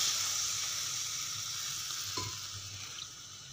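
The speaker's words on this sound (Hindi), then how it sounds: "अब इस स्टेज पे मैं इसमें हाफ़ ग्लास पानी डाल के इसे थोड़ा सा और मज़ीद गलाऊँगी" Half a glass of water is added to frying chicken masala for a creamy handi, and a strong, steady sizzle slowly settles and quiets.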